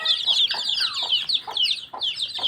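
A desi hen clucks in a quick series of short, bright calls, about six or seven in rhythmic succession, close and clear with no talking.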